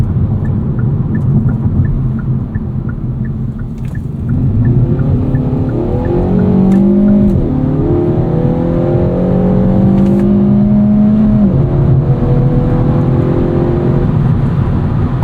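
A 2024 Kia Forte GT with dual-clutch transmission drives hard, engine note climbing and dropping through quick gear changes, loud and close from inside the cabin with no talking.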